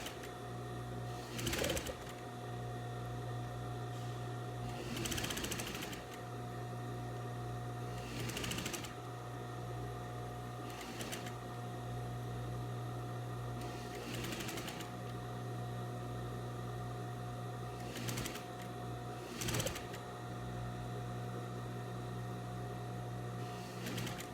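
A sewing machine runs a seam along a red viscose dress, starting at the shoulder join, with a steady close hum and a few brief pauses and clicks as the fabric is repositioned.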